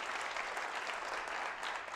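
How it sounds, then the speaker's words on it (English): Steady applause from an audience fills the whole stretch, dense clapping at an even level with no voices breaking through. "So please give him another round of applause."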